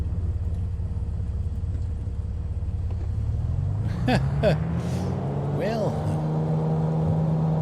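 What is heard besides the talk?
aircraft rolling down runway, Microsoft Flight Simulator 2020 video game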